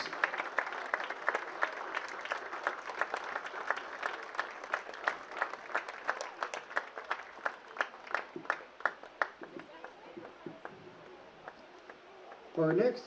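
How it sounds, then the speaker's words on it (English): A crowd at a high school football hall of fame induction applauds steadily with many hands clapping at once, then the clapping thins out and fades near the end. "Let's give them a round of applause."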